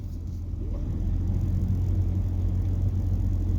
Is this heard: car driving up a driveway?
yes